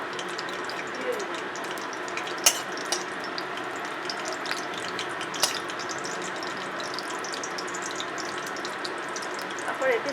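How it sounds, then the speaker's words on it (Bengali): Green chillies fry in hot white oil in a kadai, giving a steady close hiss with faint crackles and a few sharp clicks of a utensil. "কড়াতে সাদা তেল দেবো, তেলটা গরম হবে, একটু কাঁচা লঙ্কা দিয়ে দেবো।"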